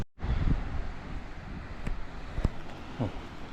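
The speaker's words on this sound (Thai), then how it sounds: "โอ้ตอนนี้ลม" Steady wind gusts roar across an exposed outdoor spot in the morning, a loud continuous rush buffeting the microphone, with a few faint knocks breaking through.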